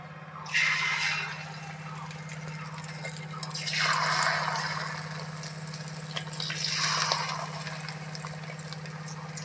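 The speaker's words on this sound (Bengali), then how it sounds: "তেলটা গরম হয়ে গেছে এবার ছোট্ট ছোট্ট করে পকোড়াটা করে নেব" Small fish roe pakora fritters frying in hot oil, a steady close sizzle with bursts of crackling bubbling that swell and fade three times over a constant low hum.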